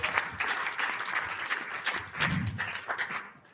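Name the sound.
congregation applauding in church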